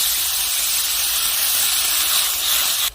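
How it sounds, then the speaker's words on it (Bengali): Spice paste water poured into hot masala sizzling in a pan, for a cauliflower and koi fish dish, giving a loud, steady steam hiss close by with no pause. "এখন আমি দিয়ে দেব মশলা বাটা জল।"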